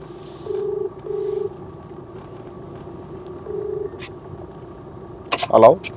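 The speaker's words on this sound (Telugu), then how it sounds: "ఫోన్ అయితే చేస్తున్నా." A phone ringback tone sounds in repeated steady beeps, two close together then another after a pause, followed by a brief clatter near the end.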